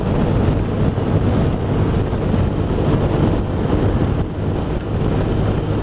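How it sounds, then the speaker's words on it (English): Strong wind buffets the rider on a motorcycle in wet, rainy weather, a loud continuous roar with gusty swells that fills the whole stretch, no voice over it. "Very windy today too."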